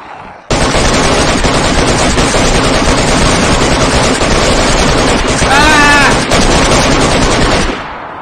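Gunfire in DayZ, a loud continuous burst of rapid automatic shots running for several seconds, close and dense, with a short high whine or ricochet near the end before cutting off.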